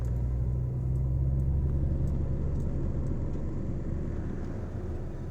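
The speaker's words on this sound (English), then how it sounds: "and I hate traffic" Road traffic heard from inside a vehicle driving slowly, a steady low engine and road rumble throughout with no talk.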